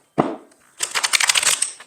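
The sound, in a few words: shuffling tarot cards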